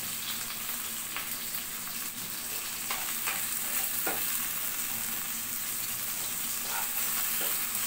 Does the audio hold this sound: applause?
no